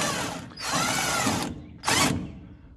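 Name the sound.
power tool running out a puller bolt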